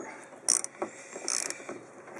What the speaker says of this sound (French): Allez, on desserre l'amortisseur. L'aiguille de 22. On desserre.